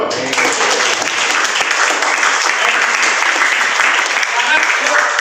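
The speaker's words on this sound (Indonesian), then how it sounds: "Tepuk tangan dong." A class of students at a school gathering claps loudly and steadily, a dense, close crowd of hands filling the whole moment with a few faint voices mixed in.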